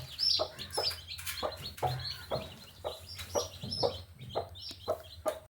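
Close, repeated clucking of hens mixed with high peeping of newly hatched chicks, a busy irregular rhythm of short calls with no talking.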